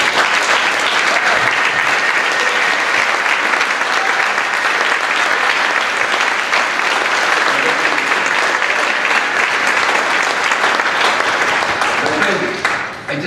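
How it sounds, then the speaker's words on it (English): A large keynote audience at an environmental law conference gives a conference team a sustained round of applause. Dense, loud clapping fills the hall steadily for over twelve seconds, then thins out at the very end. "Give them a round of applause."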